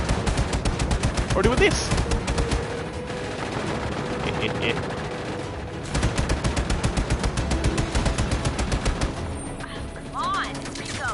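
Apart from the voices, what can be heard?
gunfire shooting enemies in the video game Just Cause 3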